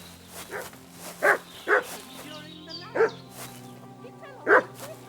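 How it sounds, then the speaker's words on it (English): A dog in Kingdom Come Deliverance 2 barks repeatedly at a medieval village homestead, several loud yaps spaced irregularly over a quiet ambient game backdrop. "What's that dog making such a fuss about?"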